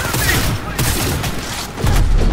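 A Cyberpunk 2077 firefight, with dense, loud bursts of rapid gunfire from several weapons continuing throughout and brief gaps between volleys.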